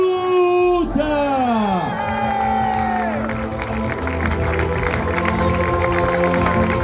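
A crowd at La Redoute stadium on Réunion Island applauds and cheers at the end of the Grand Raid trail race, with loud sustained clapping and whoops, under a voice talking over a public-address system.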